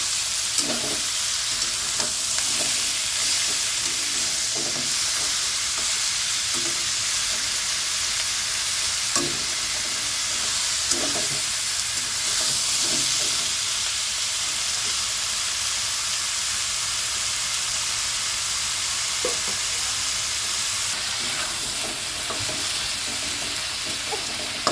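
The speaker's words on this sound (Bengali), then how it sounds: "মাংসটা ভালো করে ভেজে নিচ্ছে" Meat frying in a pan at home, a continuous broad hiss and sizzle with occasional scraping stir clicks, close and steady for the whole stretch with no talk.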